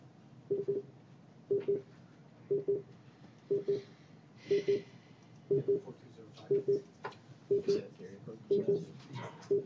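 A telephone calling into a conference line over a speakerphone gives off a regular series of paired tone bursts, about one pair per second, fairly faint against a quiet meeting room.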